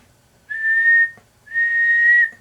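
Two sustained whistled tones, each about half a second to a second long with a short gap between, fed into a radio microphone while a two-tube junk-box 50-watt transmitter is keyed into a dummy load; clear and close, with no talking.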